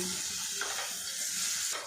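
Pointed gourd and potatoes stirred in a hot oiled pan, a steady loud sizzle with soft scraping strokes of the spoon repeating, close and alone.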